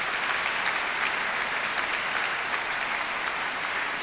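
A graduation ceremony audience in a university hall bursts into sustained, dense applause, steady and loud for several seconds without a break, with no talk over it.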